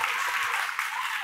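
An awards-ceremony audience breaks into brief, dense, close applause that runs through the whole short moment.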